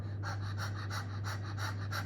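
Rapid, rhythmic panting breaths of a person imitating an out-of-breath dog, about six short puffs in quick succession, steady and close, with a low constant hum underneath.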